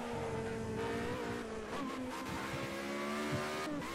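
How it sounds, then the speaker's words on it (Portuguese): Race car in Project Cars 2 accelerating through the gears, a loud steady engine whine rising and dropping with shifts, with brief tire squeal and no talk. "Ele acelera o carro."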